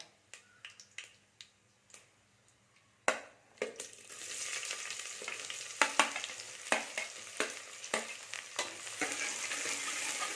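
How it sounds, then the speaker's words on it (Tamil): Onions dropped into hot tempered oil for lamb leg soup: a few faint taps, then a sudden loud sizzle that keeps crackling and popping close by, with sharp spatter bursts and no talking. "அது பொரிஞ்ச உடனே வெங்காயத்தை ஆட் பண்ணிக்கலாம்"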